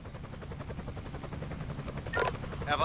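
A helicopter in the video game Emergency 2016 flies with a steady low rotor thump, and sharper game effects enter near the end.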